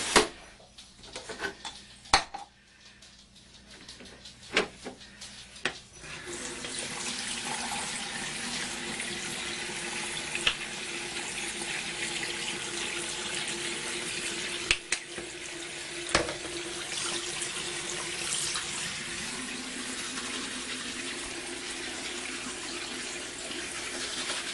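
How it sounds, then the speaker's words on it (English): A bathroom tap runs steadily while someone brushes their teeth, a constant rushing hiss broken early on by a few sharp clicks and knocks, then flowing unbroken at even volume. "Do you turn off the water when you brush your teeth?"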